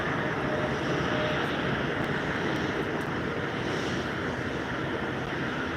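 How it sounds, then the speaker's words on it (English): A small white plane takes off from a runway at Albany International Airport, its engine giving a steady, loud broadband roar that holds constant throughout at close range. "It's about to lift off in a couple seconds on the runway there"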